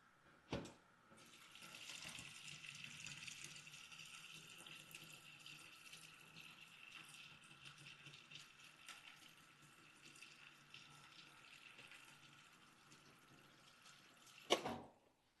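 Lukewarm water runs from a tap into a container in a steady, even hiss for several seconds, framed by a sharp knock at the start and a louder clunk as it stops.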